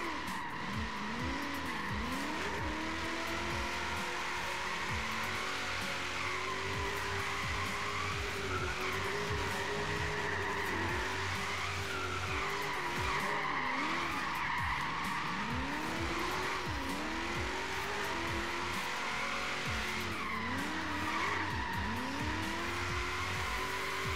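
A Lexus GS 350 F Sport drifts in Forza Horizon 3, its tires squealing in long, wavering skids over a steady engine drone, loud and continuous, with swelling squeals recurring throughout.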